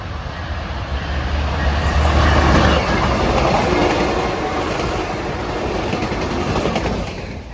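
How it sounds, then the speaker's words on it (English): A midnight freight train rolls past on a rail line near an old mill outside Greensboro and Winston-Salem, producing a loud, continuous rumble with clattering wheels that holds steady throughout the clip. "I'm waiting for the midnight freight to come through"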